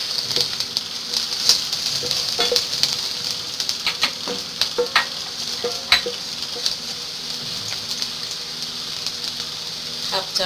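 Onion and garlic frying in a pan for a jute leaf dish: steady sizzling with a bright hiss, broken by clicks and scrapes of a stirring utensil against the pan, close and fairly loud throughout.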